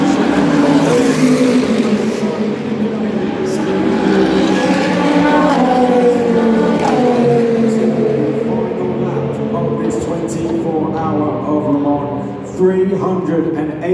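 Race cars roar past at the 2025 24 Hours of Le Mans, including an LMP2 Oreca. Loud, continuous engine drone rises and falls in pitch as they pass, with a commentator talking over it throughout.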